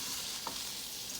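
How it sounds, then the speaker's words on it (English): Vegetables stirred and frying in a pot for a cook-up rice dish, a steady soft sizzle with one brief scrape of the spoon, close and alone. "We're gonna give this a good mix so everything can fry up nicely."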